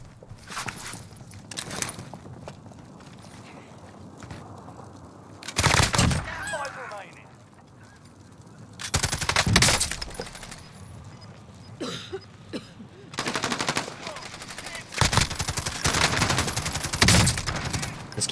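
Repeated bursts of gunfire in the video game Warzone, several loud volleys spread through the span with game noise between them and people talking over it.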